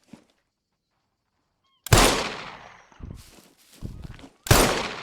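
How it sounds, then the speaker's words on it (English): Two loud, sharp Magnum revolver shots from the video game SCUM, each followed by a long ringing decay, with quieter footstep-like thuds and shuffling between them in an otherwise silent setting. "2 shots with the Magnum"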